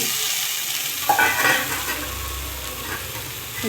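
Carrot and pea pieces stir-frying in a pan for fried rice, giving a steady broadband sizzle with a brief louder burst of stirring near the middle, close and continuous with no talking.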